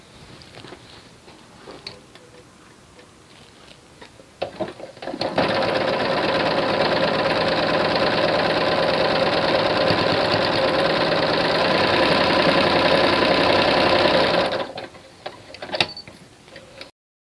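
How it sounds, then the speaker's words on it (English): A sewing machine stitches quilt fabric along marked lines, running steadily and loud for about nine seconds with a rapid mechanical chatter, framed by quieter handling noise before and after. "Now you're going to sew on each one of these lines"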